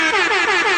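A loud air horn blast played from a soundboard, a continuous blaring tone with wavering pitch that fills the whole moment on its own.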